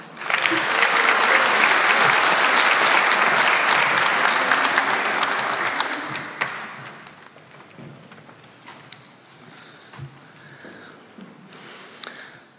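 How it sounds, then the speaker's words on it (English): An audience at a community health launch event applauds in a full, dense round of clapping for about six seconds, then it tapers off into quiet room ambience with faint scattered sounds. "If we could please give her a round of applause."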